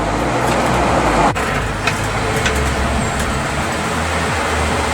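A Ford F250 pickup with a 460 big block engine rolls through stop-and-go highway traffic, a steady loud road and engine rumble from inside the cab with passing vehicles and a brief thump.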